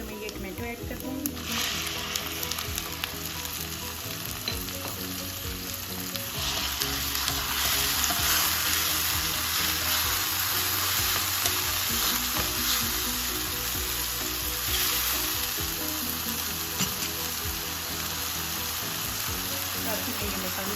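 Tomatoes frying in a pan for tuna fish masala give a steady, loud sizzle that runs without a break, with faint stirring and clinks of the pan over the crackle.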